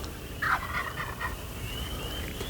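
A wild turkey gobbles once in spring woodland, a brief rattling burst at moderate distance over quiet outdoor background, followed by a faint thin tone.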